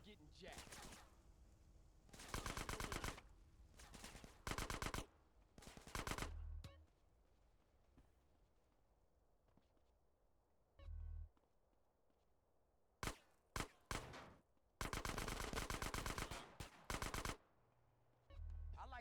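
Repeated bursts of rapid automatic gunfire in GTA San Andreas, loud rattling volleys separated by quieter gaps, with brief single shots in between.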